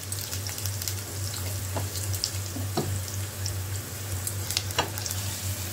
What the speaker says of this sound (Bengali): আলুগুলো আমি আগে ভেজে নেব